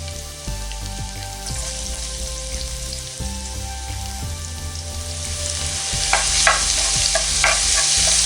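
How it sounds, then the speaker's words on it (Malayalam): Chopped garlic fries in hot sunflower oil for a homemade pizza sauce, giving a loud, continuous sizzle with stirring. A few light utensil clinks come near the end. "ഓയിൽ ചൂടായതിനു ശേഷം ഇതിലേക്ക് 2 ടേബിൾ സ്പൂൺ വെളുത്തുള്ളി ചെറിയ പീസായി കട്ട് ചെയ്ത് ഇട്ട് കൊടുക്കാം."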